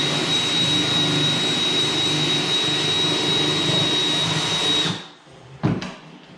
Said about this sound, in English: So we drill this out here